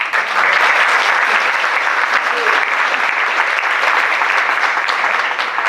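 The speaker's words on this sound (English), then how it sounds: "give me a round of applause" A crowd at a campaign event in Wyandotte, Michigan gives a round of applause for a Senate candidate, steady dense clapping that holds loud and even throughout.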